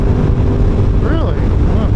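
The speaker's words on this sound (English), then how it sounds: "It's raining outside. It's really windy." Heavy wind buffets the microphone with a steady low roar during rain outdoors, and faint voices come through underneath.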